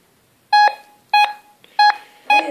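An MD1023g25 metal detector beeping over a 10-filler coin lying on the ground, four loud, sharp electronic beeps at an even pace of roughly one every 0.6 seconds, alone in near silence.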